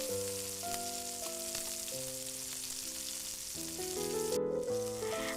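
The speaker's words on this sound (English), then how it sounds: "If you like it, you can grill in the hot frying pan for a while." Sliced smoked beef grills in a hot frying pan with a steady, bright sizzle. The sizzle runs throughout under a layer of sustained musical notes, and no one speaks.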